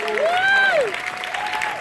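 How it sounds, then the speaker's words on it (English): Audience at a documentary Q&A in Philadelphia applauding with cheering, a steady burst of clapping mixed with a rising whoop and nearby voices. "let's just give her a round of applause"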